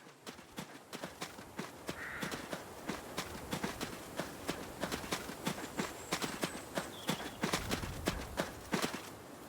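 Horse hooves clip-clop in a steady, close, fairly loud rhythm of sharp repeated strikes, a farmyard gait heard with no talk over it.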